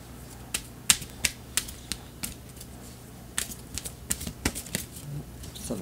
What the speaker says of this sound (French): on va tirer une carte comme ça